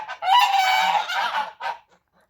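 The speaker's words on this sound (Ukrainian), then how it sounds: "Гуси підтверджують" Geese in a farmyard honk nearby, a loud drawn-out raucous call followed by a short second honk, then silence.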